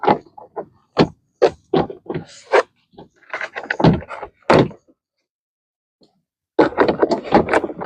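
Interior door panel of a 2005-2015 Toyota Tacoma being handled and pressed back onto the door: a series of close, sharp plastic thunks and clunks, several in quick succession, a pause, then another dense burst of knocking.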